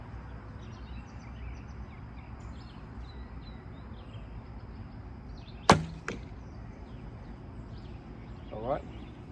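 Outdoors, an Easton 400 spine arrow is loosed and strikes a target block with one sharp, loud thwack over steady background hiss, followed by a faint later knock.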